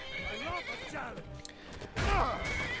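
A horse in a video game whinnies loudly during a sword-and-shield fight, with a second strong neigh after a short pause. The calls are up close and clear over the game's background sound.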